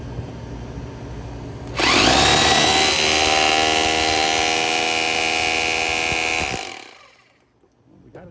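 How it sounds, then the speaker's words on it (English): A tool works loudly to chisel a stuck part out of a Daikin VRV air conditioning unit showing error H7-05, a steady harsh grinding and whine that starts abruptly after a quieter stretch, holds for about five seconds, then cuts off. "we're gonna try to prop this thing up somewhere to chisel it out of there"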